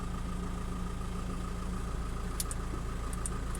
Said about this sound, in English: This is engine on, AC off.